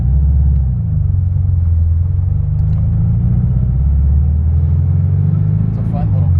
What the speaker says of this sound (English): this is a 1959 Karmann Ghia. I'm gonna take it for a spin